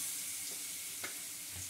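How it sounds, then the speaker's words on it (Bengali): Taro pieces frying in a pan, a steady close sizzle with a few soft scrapes and taps as they are stirred. "কচুগুলো দিয়ে ভালো করে আমি একটু নাড়িয়ে নিচ্ছি।"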